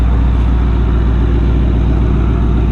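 A muscle car engine breathing through long tube headers holds a steady, loud, deep exhaust rumble up close, an unbroken droning growl with no voices.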